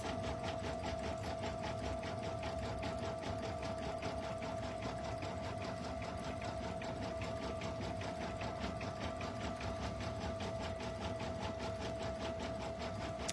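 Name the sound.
embroidery machine stitching a stuffed toy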